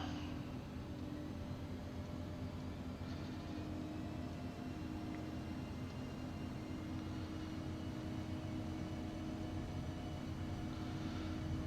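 Airliner engines in the X-Plane 11 flight simulator at runway 14 for takeoff, a steady, loud broadband roar with a constant low hum that holds evenly throughout, no voices over it.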